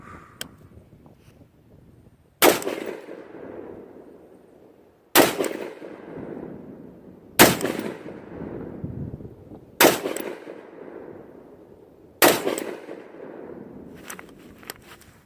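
AR-15 rifle fired while zeroing, five sharp gunshots spaced roughly two and a half seconds apart, each loud, close and followed by a short ringing decay, with quiet between shots.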